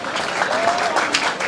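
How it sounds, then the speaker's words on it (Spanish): Applause from a live audience at a Spanish-language event, a dense, steady wash of clapping filling the whole moment with a faint voice mixed in. "Un aplauso."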